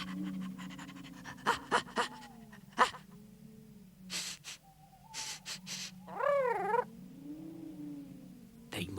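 Bumpy Dog, a cartoon dog in Noddy, pants in quick rhythmic huffs alongside scattered squeaky, warbling cartoon noises, all fairly quiet and close.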